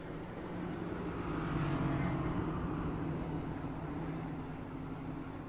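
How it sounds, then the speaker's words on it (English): A pace car rolls around the Watkins Glen road course before a stage restart, giving a steady low engine drone that swells slightly and fades over several seconds, heard at moderate distance with no talk. "as we see the pace car coming here on the point here to start of stage 3"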